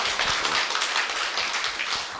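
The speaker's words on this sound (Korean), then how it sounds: "대표님께 다시 한번 큰 박수 부탁드리겠습니다" An audience at a company sales lecture gives a short burst of thick applause to welcome the speaker. The clapping is steady and fills the room without any talk.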